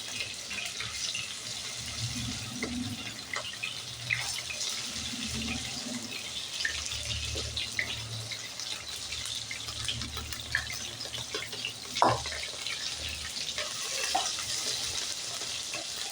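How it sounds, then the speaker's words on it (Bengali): Marinated soybean chunks fry in hot oil in a pan with a steady, close sizzle and occasional stirring clinks, with no talking. "সয়াবিনগুলোকে এইভাবে আমি দু তিন মিনিট ভালোভাবে একটু তেলে ভেজে নেবো"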